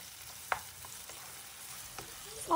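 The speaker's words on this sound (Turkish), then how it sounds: "Salçamızın kokusu çıkıncaya kadar iyice kavuralım." Tomato and pepper paste frying in a pot makes a faint, low sizzle with a couple of soft stirring knocks, quiet and close, with no talk.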